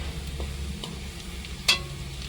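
Onions frying lightly in a pan, a soft steady sizzle with a few brief scrapes and one sharper clink of a utensil, close by and alone.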